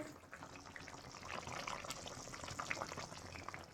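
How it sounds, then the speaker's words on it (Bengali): Fish curry broth bubbling on the stove in a home kitchen, a steady close simmering fizz with soft pops and no talk. "এই ওর ঝোলটা ফুটছে"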